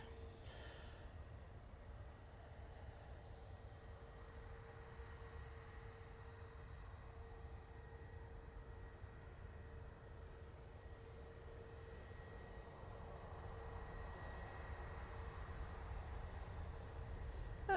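A Ryanair airliner from Cork arriving at Manchester Airport, a distant, steady engine rumble with a faint whine that slowly swells louder toward the end, no voices over it.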